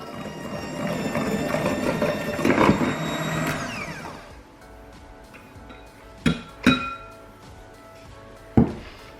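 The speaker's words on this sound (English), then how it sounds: "now we're just going to whisk the egg yolks and sugar until it's pale" Egg yolks and sugar are beaten for a tres leches milk cake, with a close, whirring mechanical whisk running steadily for about four seconds before stopping, followed by a few sharp clinks and knocks against the bowl.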